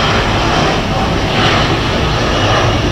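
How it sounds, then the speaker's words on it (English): A private jet taking off at Zurich airport gives a loud, steady broadband roar of aircraft engines that holds at full strength through the whole stretch, with no clear voices over it. "Something that looked like a private jet, which it probably is."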